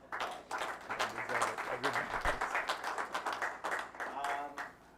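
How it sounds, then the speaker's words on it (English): A modest crowd at the Pan Am Snooker Championships 2025 claps steadily after a prompt, fairly quiet and even, with a voice speaking through the applause. "let's give him some applause"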